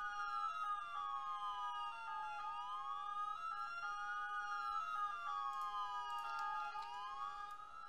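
An ambulance siren in the video game Emergency 4 wails steadily, alternating sweeping rising-falling tones with short two-tone yelps, fairly clear and continuous with no speech over it.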